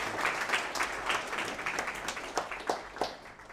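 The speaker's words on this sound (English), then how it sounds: "can we clap for the 4 guys who have shown up?" A modest audience at a cyberspace misinformation forum claps in a short, uneven burst, individual claps standing out distinctly and fairly close.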